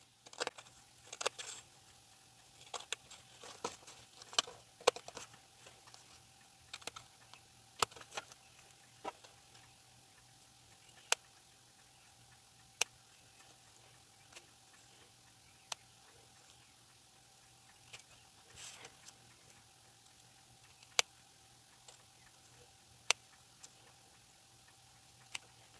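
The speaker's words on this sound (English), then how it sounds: "So I'm just going to cut these out." Scissors cut out paper words for a card, giving sparse, sharp snips and ticks at irregular intervals, close and quiet over a low hum.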